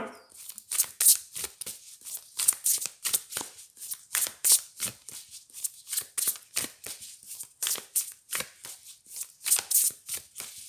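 Tarot cards being shuffled and laid out, a close run of crisp riffling and slapping bursts in quick irregular succession, with no voice.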